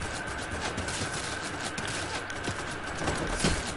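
Rapid gunfire from a video game, a dense stream of shots rattling on steadily for a few seconds under a player's voice.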